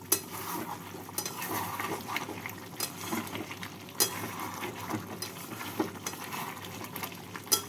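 Chicken for white chicken stirred in a pot once the lid comes off, soft scraping of a spoon against metal with gentle sizzle underneath and a few brighter knocks, close and fairly quiet.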